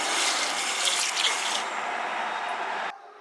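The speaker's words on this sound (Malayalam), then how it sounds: "ഒരു ഒന്നര കപ്പ് വെള്ളം" About one and a half cups of water pour into a pot of green gram seasoned with turmeric, salt and pepper. A close, continuous splashing gush lasts nearly three seconds and then stops abruptly.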